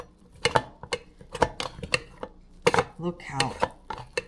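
Cooked rice being stirred in a mini rice cooker pot, with a spoon scraping and tapping the inner pot in quick, uneven clicks close by, while a person talks over it.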